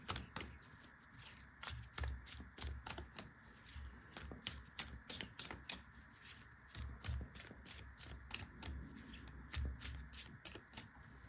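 Tarot cards being shuffled and drawn for a pick-a-card reading, a quiet, close run of rapid papery riffles and soft rubbing slides in repeated bursts, with no talking.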